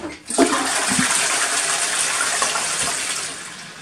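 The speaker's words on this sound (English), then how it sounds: "and once I flush it, you should see," A toilet flushes loudly and close up with bleach in the bowl, a continuous rushing gush of water that holds steady for several seconds.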